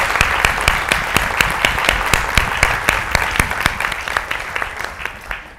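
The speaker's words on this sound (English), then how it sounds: "Let's just give a round of applause to the wonderful crochet artists who've made those pieces." An audience applauds the crochet artists at a craft presentation evening, with steady, dense clapping holding throughout and a few sharper, louder claps standing out near the front before it tapers slightly at the end.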